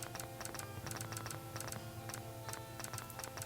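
Rapid, steady bursts of mouse clicking at close range, quiet and unbroken, with clusters of sharp ticks repeating over a few seconds and no talk.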